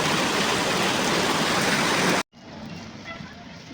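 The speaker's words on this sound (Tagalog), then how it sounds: "Nabot na tayo ng ulan." Heavy rain drums loudly and steadily outdoors, then cuts off abruptly to a much quieter patter with faint background sounds.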